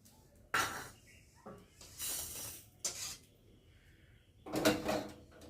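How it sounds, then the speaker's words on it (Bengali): Fried nigella seeds, dried red chillies and garlic are tipped out of a metal wok, making a few quiet scraping and clattering bursts separated by short pauses. "এখন আমি কড়া থেকে ঢেলে নিই।"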